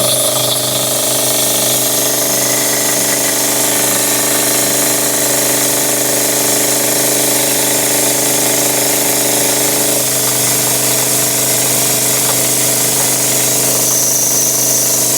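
A milling machine cuts a chamfer around the perimeter of a rectangular part with mist coolant on, a loud continuous steady whine and hiss with layered tonal hum holding unbroken throughout.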